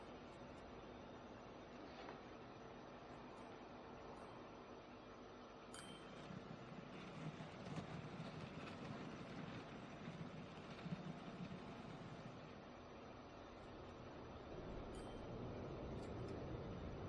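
A train runs in the video game Transport Fever 2, a steady rumbling rail-car noise that rolls on throughout with a slight swell toward the end.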